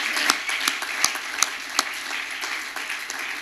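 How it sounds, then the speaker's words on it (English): Church audience clapping for the Foxes during a pastoral anniversary service, a dense steady applause with a few sharper claps standing out, moderately loud and continuous. "Let's give the foxes a good hand clap."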